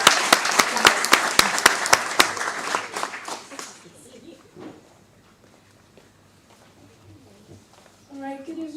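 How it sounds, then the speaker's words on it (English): Loud audience applause at an evening marine event, with sharp close claps standing out before the clapping thins and fades over about four seconds, leaving quiet room noise and a voice starting near the end. "so please give a warm round of applause."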